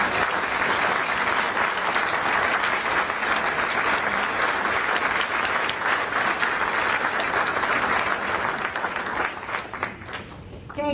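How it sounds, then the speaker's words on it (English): A crowd of veterans, active military members and attendees at a political party fundraiser in Clear Lake gives sustained, loud, dense applause that holds steady for about ten seconds, then thins and fades out. "And now we will have a round of applause for all of you."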